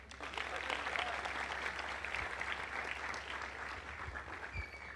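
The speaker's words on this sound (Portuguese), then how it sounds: "Um aplauso para a balança." A congregation applauds at a church service, a continuous full wash of clapping from many people at a steady level, with a low hum underneath throughout.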